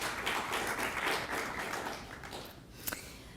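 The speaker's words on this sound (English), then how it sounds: "If we could just applaud him for that." Audience applause after a speaker's tribute at a live talk event, a moderate clapping wash that thins and fades out, followed by a couple of faint isolated claps.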